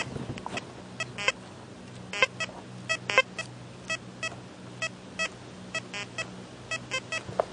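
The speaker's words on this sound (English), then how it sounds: "this is the type of signal a cut half would give at that depth" Goldmaxx metal detector giving its signal tone over a cut half coin buried at 10 inches: a series of short, faint electronic beeps repeating at an uneven rhythm over a steady low hum.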